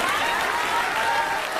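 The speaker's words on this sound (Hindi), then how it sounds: "आप ताली बजा सकते हैं।" An audience at an Uttar Pradesh mushaira claps steadily, a dense, sustained wash of applause from a large crowd heard up close.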